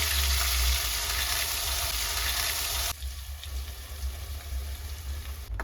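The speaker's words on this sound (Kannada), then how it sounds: "ಇವಾಗ ನಾನು ಇದ್ರದ್ದು ಹಸಿ ವಾಸನೆ ಹೋಗೋವರೆಗೂ ಫ್ರೈ ಮಾಡ್ಕೊಂಡಿದ್ದೀನಿ" Masala paste for egg curry frying in a pan with cloves, cinnamon and cardamom, a steady close sizzle that softens partway through as the frying settles, with no talk.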